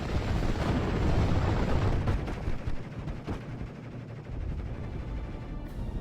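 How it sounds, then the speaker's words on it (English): Rumbling explosions from a P-47 bombing run in a World War II video game: a heavy, sustained low roar with several sharp blasts and crackles layered on top, loud and close. "P-47 is going to come in for another bombing run"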